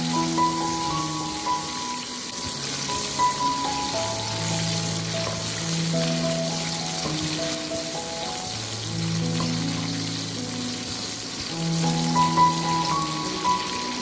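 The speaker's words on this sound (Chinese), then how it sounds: "油热之后下入葱姜，开小火不停的翻炒，炒出葱姜的香味。" Scallion and ginger sizzle and crackle in hot oil while being stir-fried over low heat for scallion oil chicken drumsticks, a dense, steady frying noise with a melody playing underneath.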